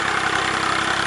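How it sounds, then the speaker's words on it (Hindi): A tractor engine idles steadily in a field for about a second, a loud continuous rumble with a broadband mechanical drone and no voices over it. "लेके आ गया ट्रैक्टर खेत में।"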